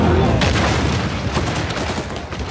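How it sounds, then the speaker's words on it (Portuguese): An explosion in the video game Uncharted 4 booms loudly near the start and spreads into a dense, rumbling blast with crackling debris that fades slowly across the clip. "Explodiu."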